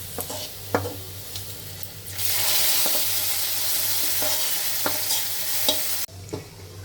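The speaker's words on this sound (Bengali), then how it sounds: "এই যে পেঁয়াজটা রসুন ভাজা আমার হয়ে গেছে। এখন খিচুড়ির মধ্যে দিয়ে দেবো।" Onion and garlic fried until red are tipped into a pot of mixed-vegetable khichuri. A loud close sizzle bursts up and holds for several seconds, framed by sharp stirring clicks before it cuts off abruptly.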